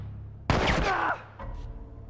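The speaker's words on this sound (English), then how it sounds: "just let her keep shooting" A companion's gunfire in The Last of Us Remastered, a sharp loud burst with a rolling echo, then a second quieter report, over a low game ambience.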